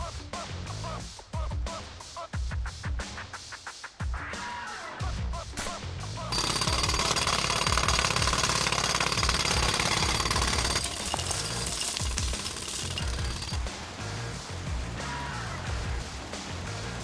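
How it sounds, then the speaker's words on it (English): In the TMNT Mutants Unleashed video game, a drill bores a hole with loud, steady jackhammer-like pounding. The hammering starts in choppy bursts and then settles into a continuous roar. "I need more time to finish hammering the hole!"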